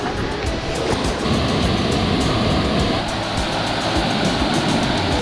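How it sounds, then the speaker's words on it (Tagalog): Rushing water pours from a river waterfall, a continuous broadband roar that stays loud and close throughout, with no voices. "May falls dito. May falls din doon sa baba."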